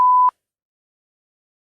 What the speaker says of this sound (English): where I've selectively beeped them out